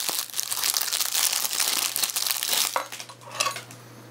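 Plastic packaging of a small fire steel being opened, close crinkling and rustling with scattered sharp crackles and a low steady hum underneath, no talking.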